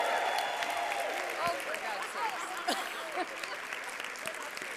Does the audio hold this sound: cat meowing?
no